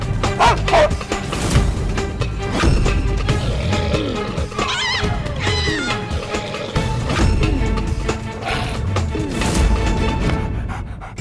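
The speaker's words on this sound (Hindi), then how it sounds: "खतरनाक कुत्ता तो वापस आ गया।" A dangerous dog barks and yips repeatedly, loud and close, in rapid bursts through a noisy scene with some whimpering and background commotion.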